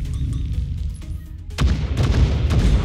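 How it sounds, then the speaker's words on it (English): A missile fires in the video game Breachway: a low rumble gives way midway to a loud, sustained booming blast with crackling bursts, with no talk over it. "he's firing a missile, it's fine"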